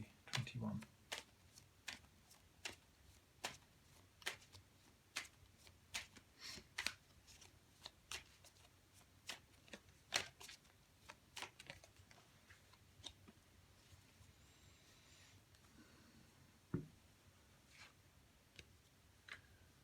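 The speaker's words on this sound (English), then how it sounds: "let's give the cards a shuffle and see what messages we have for today" Tarot cards being shuffled by hand close up give a steady run of crisp riffling snaps and soft slides that keep going for a long stretch at a quiet level.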